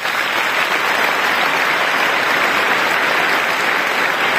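A large audience at a school event claps loudly and densely, with steady applause filling the whole stretch.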